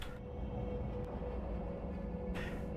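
A train rolling along in the factory-building game Factorio, a steady low mechanical rumble holding at an even, fairly quiet level throughout.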